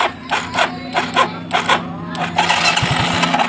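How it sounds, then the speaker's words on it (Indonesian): A Yamaha Mio Soul GT scooter, fitted with a replacement fuel pump, cranks over in short starter bursts and then catches, settling into a steady running engine sound close by. "Wah, motor hidup langsung, teman-teman."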